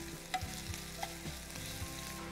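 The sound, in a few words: ginger and chillies sautéing in a pan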